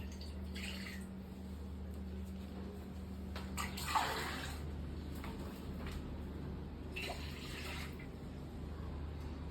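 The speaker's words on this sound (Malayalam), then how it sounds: "ഇനി ഉഴുന്ന് കുതിരാനുള്ള വെള്ളം ഒഴിക്കുവാണേ" Water poured over urad dal to soak it makes soft, faint pouring and trickling sounds, with a quiet burst of splashing in the middle over a low steady hum.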